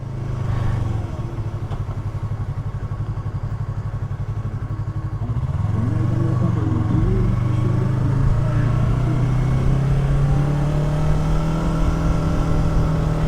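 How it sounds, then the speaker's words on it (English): A light beginner motorcycle's engine runs close by at a steady, throbbing idle, then its pitch rises slightly and holds for a sustained drone with faint clatter. No voices are heard. "This is the best beginner motorcycle, no doubt about it."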